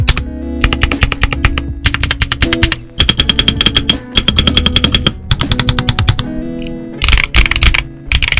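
Rapid, dense typing on a stock wired Redragon K709 65% mechanical keyboard with stock OEM keycaps, with steady clacking keystrokes close to the microphone over tonal background music.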